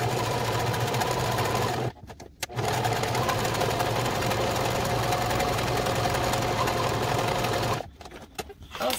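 A home sewing machine stitches a steering wheel cover at a 4 stitch length and 5 width, running as a steady close whir that halts briefly twice.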